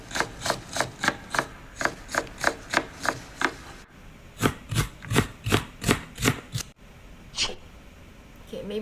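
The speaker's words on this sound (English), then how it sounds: "you can hear the speed of this chopping is a bit faster" Stock food-chopping sound effect from a CapCut library: a knife strikes a board in a steady series of crisp close chops, about two per second, then a slightly faster run of chops, ending in a single fainter strike.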